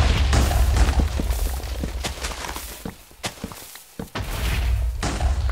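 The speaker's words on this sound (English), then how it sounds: "The explosions happen really quickly." Minecraft TNT blasts go off in rapid succession, a cluster of loud booms and heavy thuds tumbling over one another before a brief lull and another burst, with no voices.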